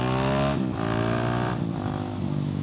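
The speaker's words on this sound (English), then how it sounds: "let that single cylinder sing" A KTM 690 SMC R single-cylinder supermoto engine revs hard up close, its pitch rising with each throttle blip before easing off, loud and alone.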